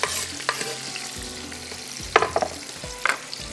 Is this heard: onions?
yes